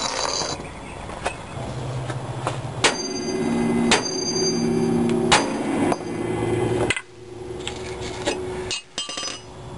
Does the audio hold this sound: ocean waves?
no